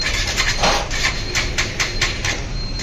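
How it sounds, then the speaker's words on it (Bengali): A Suzuki Gixxer FI ABS motorcycle engine with about 27,000 km on it runs steadily close by, with a rapid, regular ticking tapping through the idle. "হ্যাঁ, গাড়ির সাউন্ডটা শুনেন আপনারা সবাই।"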